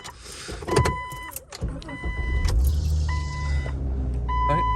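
A 1998 Jeep Cherokee XJ engine runs at a steady idle, a low continuous rumble filling the background while sharp clicks and tonal beeps sound over it early on.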